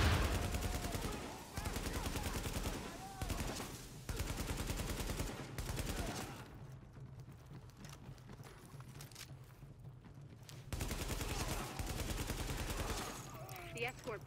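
Gunfire in the video game The Division during a rooftop firefight, with loud bursts of rapid automatic shots in long runs, a quieter gap mid-way, then more heavy firing close up.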